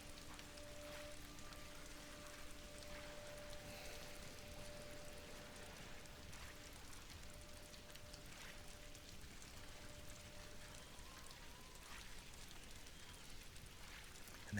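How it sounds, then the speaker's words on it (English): Steady rain pours in the Ghost of Tsushima game world, a soft continuous hiss of drops on surfaces lasting the whole stretch at an even, moderate level, with faint tonal hums running beneath. "I find the rain very calming"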